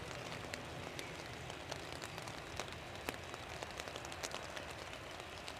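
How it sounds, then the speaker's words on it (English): Rain pattering on an umbrella outdoors at an airport, a soft, steady hiss dotted with irregular close ticks and taps of drops hitting the fabric, fairly quiet and continuous, with no voices. "If you couldn't hear the rain pattering on the brolly, you would think it was a fairly bright day."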